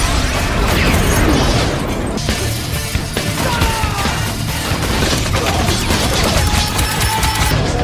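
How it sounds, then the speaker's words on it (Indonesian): Rapid gunfire from a bloody film shootout rattles in dense, loud bursts, mixed with crashes and impacts across the whole stretch, with no pause in the chaos. "Dan dari sini terjadi adegan tembak-tembakan yang berdarah-darah."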